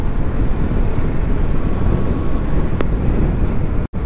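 Steady, loud wind rumble buffeting the microphone on a moving Royal Enfield Himalayan 450 motorcycle, a continuous low roar with no speech, cutting out abruptly near the end.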